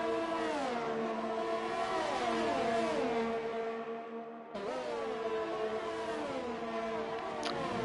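Race cars in a racing video game roar past, engines revving and shifting with rising and falling pitch, a brief dip before another car sweeps through, steady and close with no voices.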